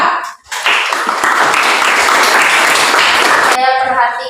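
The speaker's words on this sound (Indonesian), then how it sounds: "Kita beri tepuk tangan kepada kelompok 1 dan kelompok 2" Classroom applause for two student groups, a dense burst of clapping from many hands that starts after a brief pause and runs steadily for about three seconds before cutting off into a voice speaking.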